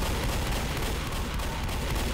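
Rapid bursts of gunfire in the Left 4 Dead video game, a dense continuous barrage of shots with booming low end, loud and close with no talk.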